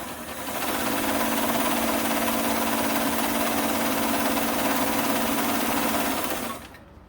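A Kenmore 52 sewing machine runs a zigzag stitch in one steady, close whirring hum with a faint rhythmic clatter, lasting about six seconds before it stops.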